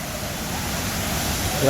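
Vattai waterfall, set among large rocks near a big quarry, gives off a broad, steady rush of water. A voice cuts in right at the end.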